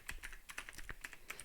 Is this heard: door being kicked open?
no